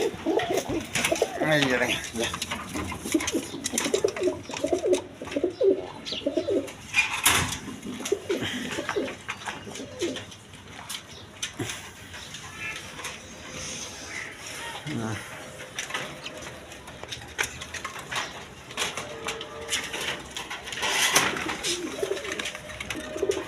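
Racing pigeons coo nearby in soft, repeated rolling calls that come and go, with someone talking over and between them.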